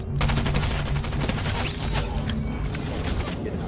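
Fortnite video game gunfire, dense rapid bursts of shots and mechanical clatter filling the whole stretch, loud and continuous.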